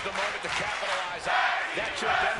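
Crowd at a tag team wrestling house show chanting and shouting together, a loud, dense roar of voices swelling in rhythmic waves close around.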